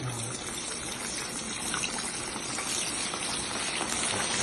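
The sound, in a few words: comb fish frying in boiling oil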